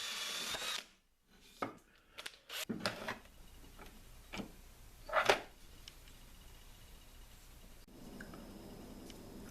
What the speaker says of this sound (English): I'm using an oversized drill bit as a ream to clean out this hole